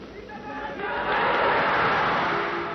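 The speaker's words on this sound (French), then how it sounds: "Les acclamations montent sans fin vers le grand soldat" A large crowd cheers in archival footage, a swelling roar of voices rising after a moment and holding loud and sustained, with some indistinct shouting.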